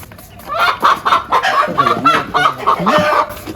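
Aseel poultry chickens cluck close by in a busy, overlapping chorus of short calls throughout, with no talk.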